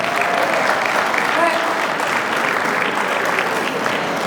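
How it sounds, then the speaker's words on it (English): Dense, sustained applause from a gala audience at a 25th anniversary celebration, loud and even throughout with no clear breaks. "Everybody give her a round of applause for France."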